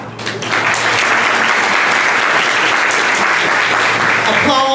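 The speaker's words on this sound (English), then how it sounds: "Applause and praise." Loud, sustained applause from a large crowd fills the space, dense and even throughout, rising quickly at the start.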